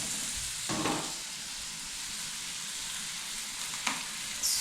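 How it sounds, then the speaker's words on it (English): Butter and mushrooms frying in a lightly oiled pan, a steady close sizzle with a couple of brief stirring scrapes, no talking. "My pan already have little oil, so butter in, mushroom in"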